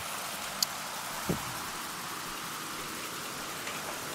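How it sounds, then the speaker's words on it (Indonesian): Steady rain falls outdoors on a wet day, a continuous even hiss of drops on surfaces with a couple of faint isolated taps, no voices. "Ini masih hujan nih, coba saya sini."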